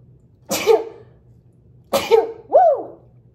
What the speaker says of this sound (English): oh, I'm gonna sneeze, hold on.